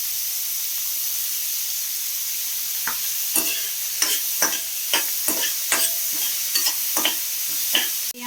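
Chopped onion and green chilli sauté in a pan, a steady close sizzle broken by a regular run of spatula scrapes and taps against the pan.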